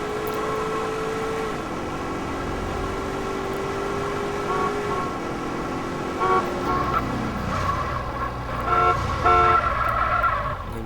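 A car in Grand Theft Auto idles and drives with a steady engine drone, then short horn-like toots and tonal bursts rise near the end, fairly loud and with no talking.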